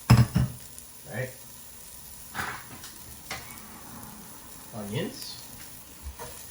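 Peppers tossed into a hot pot of oil and sizzling in short bursts while cooking beans, with utensil clatter and someone talking nearby.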